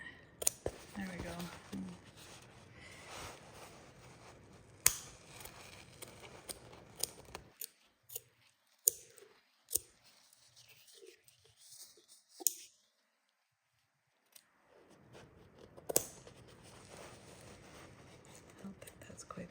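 Scissors make crisp snipping cuts through heavy canvas while building an ATV trailer cover, the clicks recurring at intervals with a quiet stretch midway, and soft background voices along the way.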